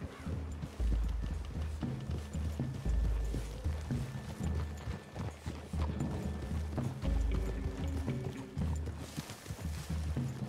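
Horses gallop through trees in the Red Dead Redemption game, a steady run of hoof clip-clops over low rumbling ambience that lasts throughout, with no talking.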